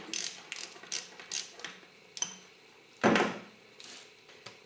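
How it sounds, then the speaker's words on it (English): A hand ratchet works a 10 mm bracket bolt loose on a disassembled Yamaha YZF600 engine, giving quick bursts of close, crisp clicking strokes with short pauses between them and one louder clunk partway through. "Got better access to get it with a ratchet, which is nice."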